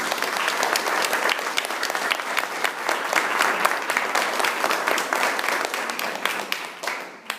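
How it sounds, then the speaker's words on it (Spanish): A church congregation breaks into sustained, steady applause, many hands clapping together for several seconds before it tapers off near the end. "Pueden darle un aplauso a Jesús."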